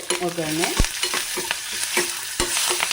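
Asafoetida, dried red chillies and curry leaves crackle and sizzle in hot oil with sharp pops and a steady hiss, plus a few metallic stirring clinks close by.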